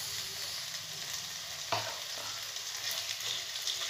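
Half a kilo of marinated prawns frying in a pan with a continuous close hiss and sizzle, marked by one sharp clack as they go in or are stirred, no voices.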